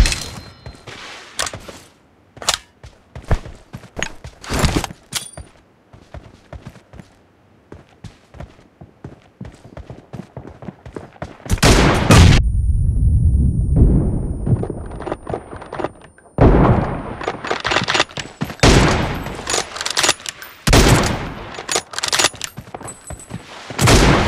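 M24 sniper rifle fire in a video game 1v1 room match: many sharp, loud shots crack in irregular clusters, broken by a sustained rumbling blast midway, then more rapid bursts of gunfire.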